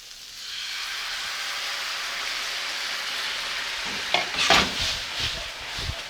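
Vegetables glazed with coconut teriyaki sauce in a pan give a steady, even sizzle, then a few louder scraping stirs and clatters near the end.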